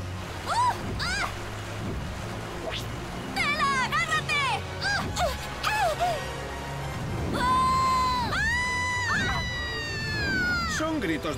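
Cartoon children shout and cheer during a wild adventure, with rising and falling whoops and long excited yells that come in bursts, loud and close, mixed with lively background sound.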